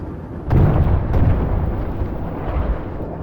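A tank's HE frag shell bursts in a video game as a sudden heavy low boom, followed by a lingering rumbling roar, with no talk.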